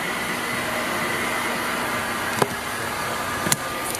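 A hot air blower runs on a car's paintwork at a detailing shop checking paint protection after 20,000 km, a steady close whooshing roar throughout with two brief clicks and no voices.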